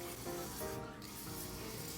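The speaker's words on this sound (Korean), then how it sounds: "이렇게 물을 뿌려 주시면서 돌도 한번 세척해 주시면 좋고요." Water sprayed over stones while setting up an indoor moss garden: a continuous close hiss of spray lasting about two seconds, with a brief dip partway through, no voices.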